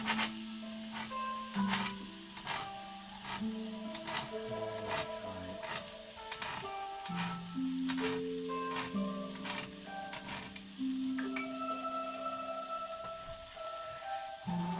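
Butter sizzles steadily in a frying pan, a soft crackling hiss running throughout while faint stirring and a tune play quietly in the background.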